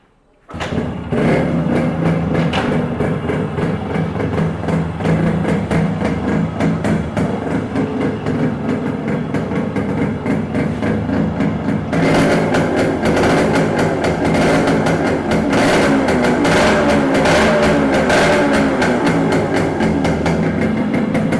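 Vintage motorcycle engine fired up and left running, a steady rapid thumping exhaust beat close by that grows louder and harsher partway through, with no talking over it.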